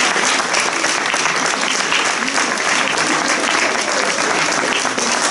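Audience at a show applauding: a dense, loud, continuous wash of many hands clapping together, sustained at an even level throughout.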